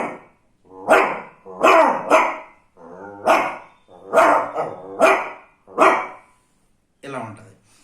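A person imitates a village street dog with their voice, giving about seven loud, close barks in uneven bursts with short pauses between them.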